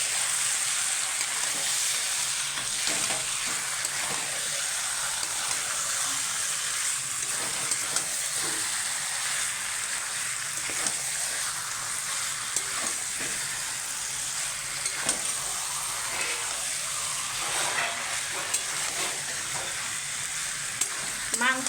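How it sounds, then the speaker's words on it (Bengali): Skin-on country chicken stir-fries in a pan, giving a continuous bright sizzle and hiss with scattered scraping and stirring clicks as the meat is turned, steady throughout with no voices. "মাংসটা যত ভালো কষাবেন তত ভালো হবে।"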